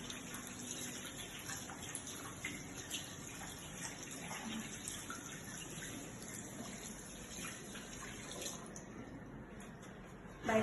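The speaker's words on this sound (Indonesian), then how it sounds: "Bilas dengan air mengalir." Tap water runs steadily from a faucet during hand rinsing at a sink, a continuous soft gush with no speech, holding level for the whole stretch before a brief louder bump at the very end.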